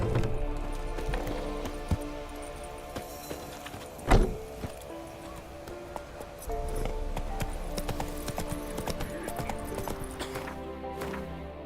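Roach, Geralt's horse in The Witcher 3: Wild Hunt on PS5, clip-clops along in a steady rhythmic gait, with a louder thump partway through and occasional faint snorts.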